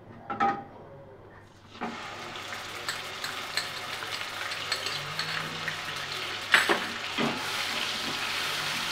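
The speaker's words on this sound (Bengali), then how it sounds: "সে পেঁয়াজ বাটাটা দিয়ে দেব।" Onion paste hits hot oil with nigella seeds in a pan for a tilapia fish curry, bursting into a sizzle that keeps frying steadily while a utensil stirs and scrapes against the pan now and then.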